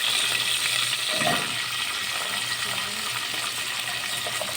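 Onions hiss and sizzle steadily as they fry in hot olive oil in a pan, a constant bright crackle with a brief louder burst near the start.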